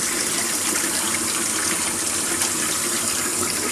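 Rice rinsing water being poured out of a pan in a kitchen, a continuous loud gushing splash of water running steadily throughout.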